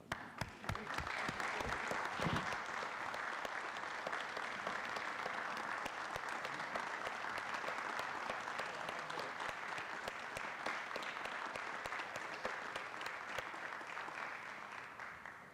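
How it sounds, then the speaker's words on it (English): A city council chamber audience applauds a departing member, a long, even round of clapping that begins with a few distinct claps, swells to a full sustained patter and continues steadily at moderate distance. "I think we need to give her a round of applause"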